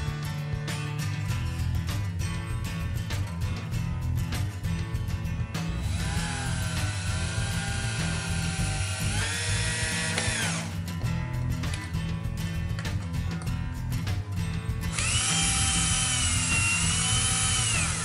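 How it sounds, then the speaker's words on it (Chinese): An electric drill bores holes into wood in two long, whining bursts that rise and fall in pitch over a steady, loud background. "然后我们就可以开始使用电钻工作了"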